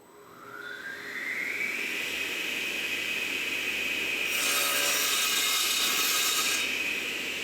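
A saw cuts into wood held against a small metal spacer in a cutting jig, making a loud, continuous rasping drone that swells and grows harsher midway through the cut.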